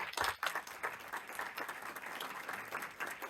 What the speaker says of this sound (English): Big applause for the panel.